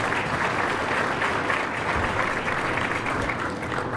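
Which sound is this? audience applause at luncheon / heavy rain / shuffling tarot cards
audience applause at luncheon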